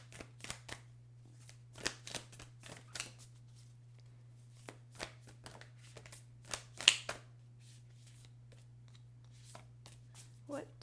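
Cards from a self-care deck are shuffled and drawn, producing scattered soft riffles and crisp flicks over a low steady hum, close and fairly quiet.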